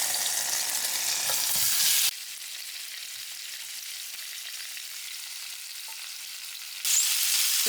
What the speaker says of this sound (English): In the same cooking skillet, we're going to put half a tablespoon of oil. We're going to go ahead and cook the shrimp.